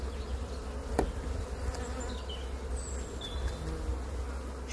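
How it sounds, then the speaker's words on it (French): Honeybees buzzing at a hive during transfer from a nucleus box into a full hive, a steady low droning hum with occasional individual bees passing close, alone without talk. "Là c'est rempli d'abeilles."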